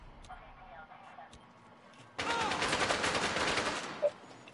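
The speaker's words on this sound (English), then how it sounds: "She's shooting something." Automatic gunfire in a PS4 video game bursts in suddenly after a quiet stretch, a dense rapid string of shots lasting about two seconds with one sharper crack near the end, following faint earlier sounds.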